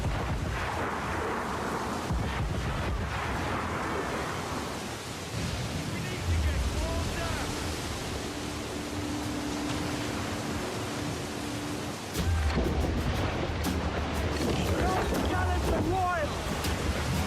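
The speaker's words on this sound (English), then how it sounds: "This storm's a monster." Stormy sea in the pirate game Assassin's Creed 4: Black Flag, with a steady roar of wind and crashing waves, loud and continuous, swelling again near the end; no clear thunderclap stands out.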